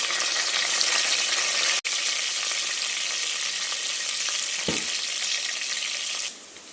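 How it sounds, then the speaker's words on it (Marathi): Two chopped onions and two chillies fry in hot oil with a continuous, close hiss of sizzling and a faint stir midway. The sound quiets slightly near the end, and no one speaks. "आपलं तेल गरम झालेलं आहे आपण जे दोन कांदे कापून घेतले ते टाकून घेऊया आणि त्यासोबत आपण ह्या दोन मिरच्या पण टाकून घेऊया"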